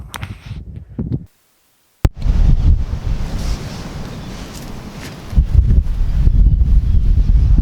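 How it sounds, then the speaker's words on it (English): Wind buffeting the microphone beside sea waves at the seaside, a loud rushing roar that cuts out briefly near the start, then surges and swells continuously without any voices. "I might be a bit pushed to be heard over the wind and the sea"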